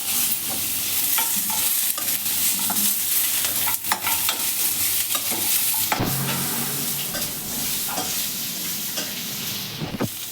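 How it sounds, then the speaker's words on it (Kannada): Kasuri methi, cumin, a piece of cinnamon and cloves frying in a hot pan, giving a steady close sizzle with scraping stir strokes throughout and no voices. "1 ಸ್ಪೂನಷ್ಟು ಜೀರಿಗೆ, 1 ಪೀಸ್ ಚಕ್ಕೆ, 1-2 ಲವಂಗ ಇಷ್ಟನ್ನು ಹಾಕಿ ಫ್ರೈ ಮಾಡ್ಕೊತಾ ಇದ್ದೀನಿ"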